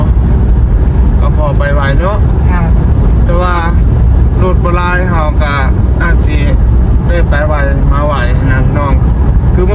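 A car drives along a city ring road. Its steady road and engine noise rumbles underneath, while someone talks loudly and almost continuously over it.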